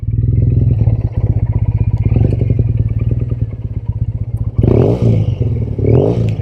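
A 2005 Triumph T100 motorcycle, styled as a 1965 Triumph, idles with a loud, rhythmic twin-cylinder throb in traffic, then revs up in two strong bursts near the end.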